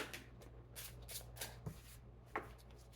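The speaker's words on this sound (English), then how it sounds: "I'm just being told to just shuffle the cards and get whatever wants to come out." Slippery playing cards being shuffled by hand, a few soft brushing riffles and light taps, close and quiet with no talking.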